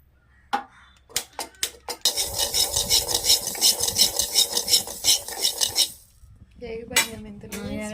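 Fenugreek seeds roast over low heat in a pan for gooseberry pickle. A few sharp clinks lead into about four seconds of steady rattling, scraping stirring, close and fairly loud, then a voice briefly near the end.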